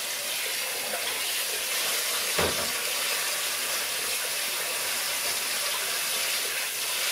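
Hot water runs steadily from a tap, a constant close hiss and splash that continues throughout, with one brief thump partway and no talking.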